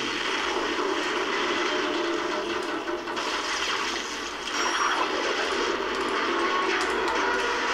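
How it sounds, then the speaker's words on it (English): A steady, loud helicopter roar fills a Call of Duty: Modern Warfare 3 scene, a dense whirring engine drone that holds constant with no voices. "then I have to destroy the helicopter."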